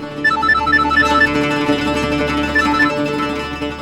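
A phone rings with a repeating electronic ringtone, bright beeping tones in short bursts over a soft background hum, with no talking.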